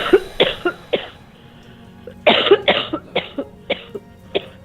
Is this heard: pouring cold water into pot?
no